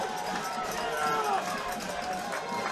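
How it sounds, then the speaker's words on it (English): A high school football crowd at Homewood vs Mountain Brook, a steady broad roar of cheering stadium fans swelling throughout, with a commentator talking over it. "Crowd coming alive. Love to hear this."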